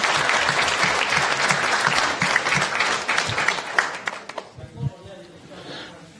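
Applause in a conference hall at a university lecture, loud and full for about four seconds before it thins out and stops.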